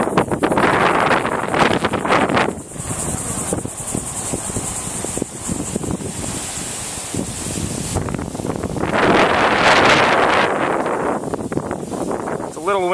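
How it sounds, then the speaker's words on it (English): Strong gusts of wind buffet the microphone in loud, uneven surges, rising again near the end; a voice can be heard under the roar. Outdoors in Satellite Beach, Florida, ahead of Hurricane Irene. "We don't have the hurricane, but we do have some wind today."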